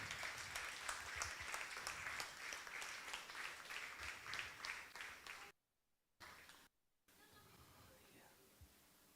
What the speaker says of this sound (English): Good round of applause, people.